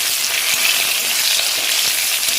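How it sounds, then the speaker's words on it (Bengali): Pieces of spiny gourd (kakrol) fry in hot oil with a steady, loud, close crackling sizzle that holds evenly throughout, with no voices. "আর এখানে ভাজে দিয়ে দিয়েছি কাঁকড়েলগুলো, কাঁকড়েলটা ভেজে নিয়ে তরকারিটা বসিয়ে দেবো।"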